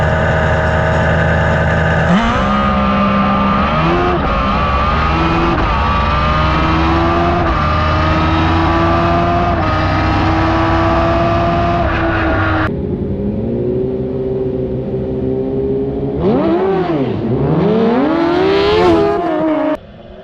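Vehicles racing on a track at a track day, with loud sustained engine roars rising and falling in pitch as they accelerate and pass, one engine cutting off partway, then another revving hard close by.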